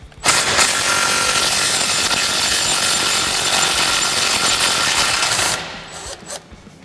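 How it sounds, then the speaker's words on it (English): A 3/8-inch impact gun with a 10mm socket zips a bolt out of a Ford F-250 front suspension during a leveling kit install, giving one loud, steady burst of whirring and rattling that lasts about five seconds before stopping. "I'm going to take my 10mm on my 3/8 gun, get up inside here."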